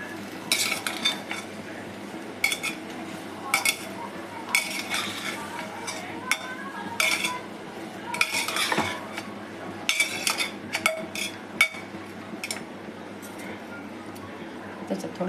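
Vegetables with turmeric being stirred in a pan for pav bhaji, with repeated metallic scraping and clinking of a spoon against the pan in irregular bursts over a low background hum.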